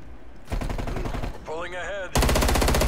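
Rapid automatic gunfire rattling in a Call of Duty: Cold War hardcore team deathmatch shootout, loud and close, with a voice cutting in briefly midway before the bursts return even heavier.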